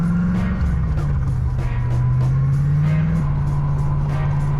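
Worn rear sway bar bushings on a C4 Corvette clunking as the car pulls away, knocks faint and irregular beneath a steady low engine drone and road rumble.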